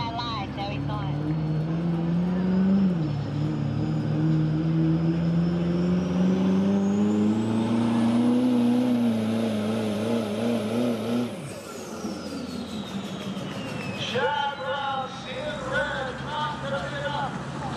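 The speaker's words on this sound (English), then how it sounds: "listen to the sound difference from this V8 Duramax, 403 cubic inches, to those inline sixes" A V8 Duramax 403 cubic inch diesel truck roars down a drag strip at a diesel event, its loud engine note rising steadily before cutting off, with the crowd and an announcer audible afterward.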